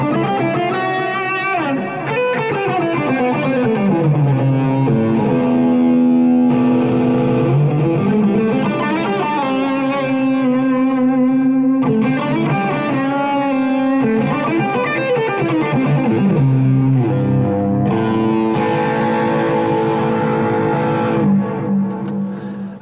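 Airline Map electric guitar by Eastwood Guitars played through distortion with compression and the bridge pickup, with loud sustained chords and sliding riffs running continuously and close up with no talk.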